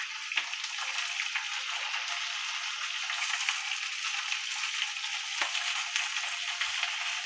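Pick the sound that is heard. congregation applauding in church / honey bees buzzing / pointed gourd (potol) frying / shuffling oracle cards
pointed gourd (potol) frying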